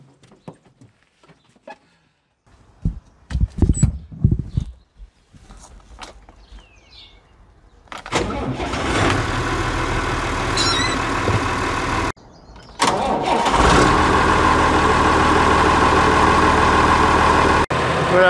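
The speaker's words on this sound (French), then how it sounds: "Voilà, le tracteur est démarré." A Massey Ferguson tractor engine cranks and starts after scattered clunks and footsteps, settling into a loud, steady idle, briefly cut off before resuming its continuous close rumble.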